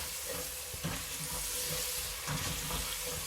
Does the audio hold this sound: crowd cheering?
no